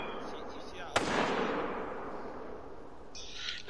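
A single sharp rifle shot from the hunting game theHunter: Call of the Wild cracks out loudly, then rolls into a long fading echo; a brief bright sound and a thump follow near the end.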